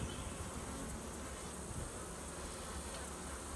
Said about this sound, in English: once I get the bees all run in the box